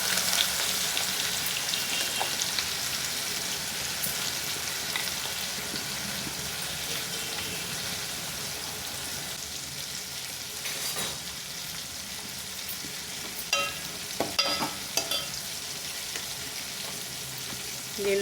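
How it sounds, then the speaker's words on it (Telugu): Chopped onions with green chillies and fenugreek seeds sizzle in oil in a pan for a fish curry, a steady close frying hiss with occasional stirring clatter and knocks, no talking. "ఉల్లిపాయలు ఫ్రై అయిన దాకా ఫ్రై చేసుకోవాలి"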